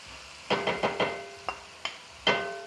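Ground beef and pork with some fat dropped into a pan for a first browning, giving short sizzling bursts and clatters spaced irregularly, fairly close and moderately loud, with no voices over it.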